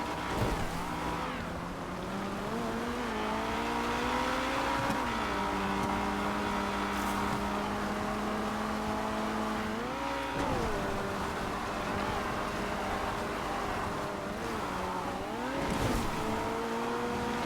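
A Feltzer sports car racing in GTA 5 hums with a steady engine drone that climbs in pitch through several gear shifts, loud and close throughout with no talking.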